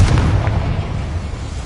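A Confringo blasting spell goes off with a loud, close explosion, a deep rumbling boom that starts at full force and slowly rolls off without any voices.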